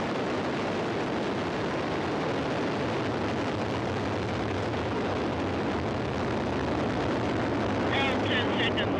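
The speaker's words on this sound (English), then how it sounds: "Engine at maximum thrust." A loud, continuous roar of rocket engines at maximum thrust during a crewed launch to the International Space Station fills the air without letup, broad and powerful throughout.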